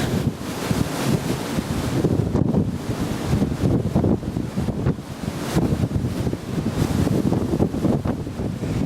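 Strong wind buffets the microphone on an exposed North Wales coastline near South Stack, a continuous loud, gusty roar with surging low rumble and no speech.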